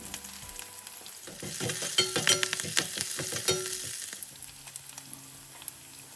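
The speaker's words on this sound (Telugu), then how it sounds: "అవి కూడా కొంచెం వేగిన తర్వాత ఒక చిన్న ఉల్లిపాయ అండ్ ఫ్రెష్గా దంచి పెట్టుకున్న వెల్లుల్లి రేఖలు" Onion, garlic, dried chillies and curry leaves hit hot oil for a Rayalaseema-style dal tempering, bursting into a loud, crackling sizzle with stirring, peaking for a few seconds before fading back to a quiet hum.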